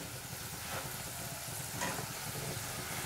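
Vegetables deep frying in hot oil until crispy for a restaurant-style veg crispy snack, a steady close hiss and crackle of sizzling with a few slightly louder surges.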